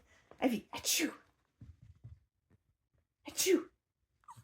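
A Border Terrier sneezing on cue, with short snorting sneezes close by, mixed with a person's voice mimicking a sneeze as the command.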